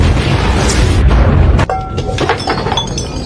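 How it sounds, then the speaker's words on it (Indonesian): A thrown explosive detonates in a film scene: a loud, dense boom with shattering debris fills the first second and a half, then cuts to a quieter tail of clinks and scattered rattling. "Yuji melempar peledak hingga Mabuchi dan Izumi terlempar"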